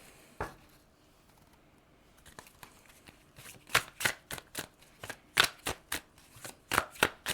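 A True Crime Oracle card deck gets shuffled up close, with a quick run of crisp riffling bursts and card slaps that grows denser and louder toward the end, no talking.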